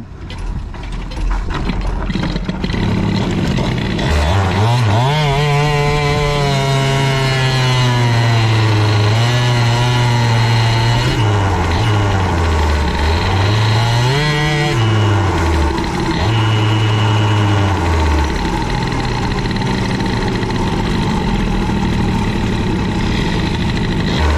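A CPI scooter engine fitted with an Airsal 70 kit is started and brought up to a loud, close idle, its pitch wavering up and down with a few blips of the throttle before settling into a steady tick.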